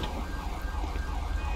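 Ambulance siren in GTA 5 during a gendarmerie mod police convoy scene, a steady wailing tone running continuously over low rumbling traffic and game ambience for the whole short stretch.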